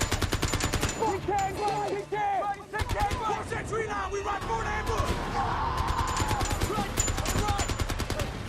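Gunfire fills a war film scene, with rapid machine-gun bursts and single shots crackling loudly and repeatedly while voices shout over the battle noise.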